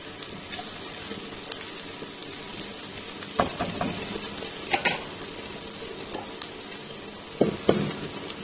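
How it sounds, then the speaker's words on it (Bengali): Chopped onion and green chili stir-fried in a pan, a steady soft sizzle with scraping stirs and a few sharp clinks of a utensil against the pan, close and alone. "পেঁয়াজ কুচি কাঁচা মরিচ নেড়ে চেড়ে ভেজে নিচ্ছি"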